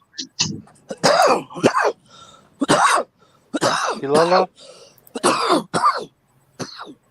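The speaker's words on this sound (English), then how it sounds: "Y'all hear that cough?" A short cough or throat-clearing bursts out near the start, followed by several people talking back and forth.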